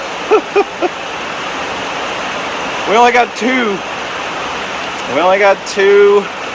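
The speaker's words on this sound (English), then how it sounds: "And then it pours." Heavy rain pours down on a lake around a paddle boat during catfish jug fishing, a dense steady hiss filling the background while people speak over it in short bursts.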